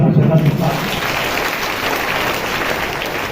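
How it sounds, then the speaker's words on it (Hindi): Audience clapping at a Christian worship gathering, a broad steady patter of many hands right after a brief voice at the start, holding at even loudness to the end. "ताली बजा के"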